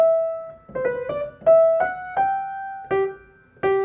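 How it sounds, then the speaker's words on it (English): A quick piano trill: rapidly alternating notes ring out clearly in short bursts, with sustained tones between, played alone with no voices. "Now it's very quick, this trill, so it's actually going to sound like this."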